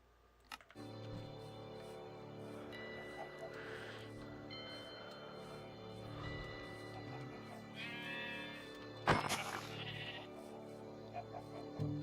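Blocky sheep in Minecraft bleat a few times amid game music and steady background sound, with a person talking over much of it.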